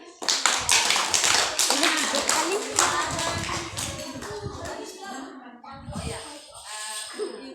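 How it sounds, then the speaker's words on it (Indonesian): A group of children at a parish youth gathering clap in sharp, rhythmic bursts close by, with scattered kids' voices and shuffling between the claps. "tepuk tangan 3 kali"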